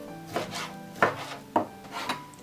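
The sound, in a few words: knife cutting fat into cubes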